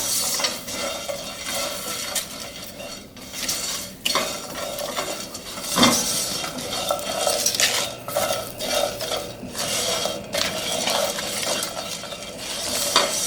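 Tomatoes cook in a pan for a vegan Indian sabji, with a steady sizzle under repeated scraping and clinking of a utensil stirring against the pan, close and continuous, with no voices.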